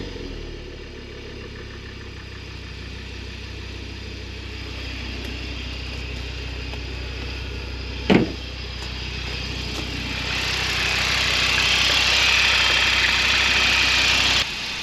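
An Audi TT RS Mk2 8J engine idles steadily after an oil service, a smooth continuous rumble with a brief sharp click midway and the engine note rising slightly toward the end; a single word is spoken.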